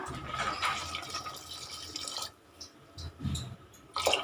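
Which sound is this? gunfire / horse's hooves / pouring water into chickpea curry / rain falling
pouring water into chickpea curry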